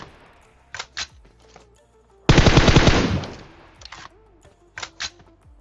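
Bursts of automatic gunfire in a battle royale shooter, with short clipped volleys near the start and end and one sustained loud burst in the middle, no voices over it.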